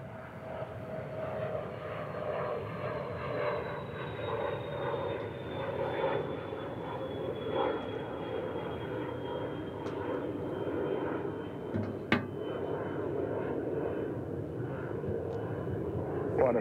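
A Flying Roo airliner moves at DFW International Airport, its engines a steady, moderately distant roar with a slowly falling whine running through it.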